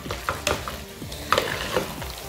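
Mutton being stirred as it fries in a pressure cooker for Andhra mutton curry, with a steady sizzle and several distinct scraping stirs at an irregular rhythm, close by.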